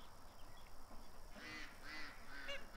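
Ducks in a pen give faint, distant honking quacks, a few short calls bunched near the end over a low, steady background hiss.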